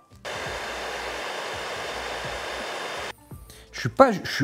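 A hair dryer blows with a steady loud whoosh for about three seconds, heating the plug of a figure, then cuts off, leaving faint handling noises and brief clicks.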